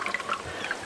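Water sloshes and splashes in short, uneven bursts as laundry is agitated by hand against a mesh, close and fairly quiet.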